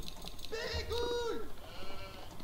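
Sheep in Age of Empires IV give two wavering, nasal bleats one after the other, moderately loud over faint background game sounds, with a third softer bleat trailing at the end.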